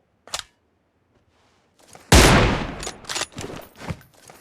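PUBG Mobile gunfire: a single sharp shot, a pause, then a loud close burst followed by several quick shots fading in irregular bursts.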